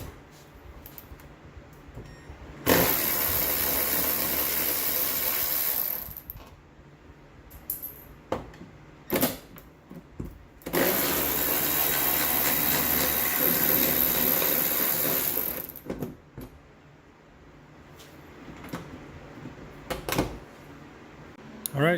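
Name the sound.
cordless ratchet loosening Honda Odyssey door roller bolts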